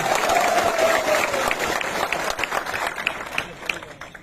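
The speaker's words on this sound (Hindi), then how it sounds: "आप अपने आप को भी थोड़ा सा ताली देकर अपने आप को भी क्रेडिट लीजिए" A crowd at a protest rally in Sabroom claps together in a loud, sustained burst that gradually breaks up into looser, scattered claps, with a faint voice running beneath.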